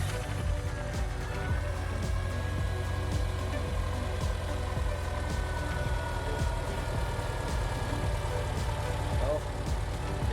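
A Subaru engine with performance upgrades runs at a steady, low idle, close and continuous, while a person talks over it.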